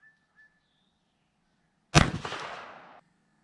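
A single loud blast from a Rossi break-action shotgun cracks out sharply, then rolls off in a decaying echo for about a second, against near silence.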